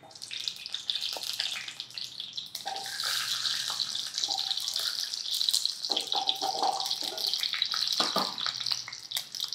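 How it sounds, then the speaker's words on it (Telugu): Indian gooseberries (amla) frying in hot oil for pickle, making a loud, continuous hissing sizzle with bubbling and occasional crackles, close by and with no talk over it. "ఈ కాయలు నూనెలో వేసేయండి."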